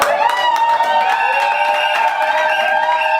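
Wedding guests at a civil ceremony burst into sustained applause and cheering, a dense crowd sound filling the whole moment with no voice standing out.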